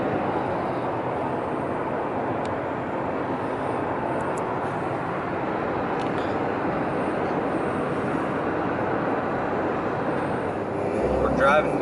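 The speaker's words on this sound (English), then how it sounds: "Driving down into Moab right now." Car driving on a road down into Moab, Utah, a steady broadband road and engine rumble continuing evenly throughout, with no clear talk.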